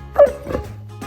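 A dog gives a short yippy bark followed by a brief whimper, close and fairly loud, with a low hum underneath and no talk.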